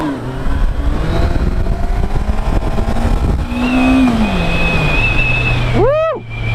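A Honda CB1100 or Kawasaki Vulcan S 650 motorcycle rides close by, its engine revving up and shifting through rising and falling tones. Wind buffets the microphone, and near the end a sharp rev swoops up and back down.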